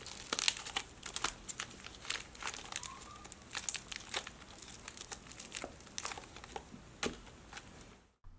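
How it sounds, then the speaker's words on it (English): A slime package is unwrapped, its plastic crinkling and crackling in rapid close bursts throughout before stopping abruptly at the end. "Let me unwrap this"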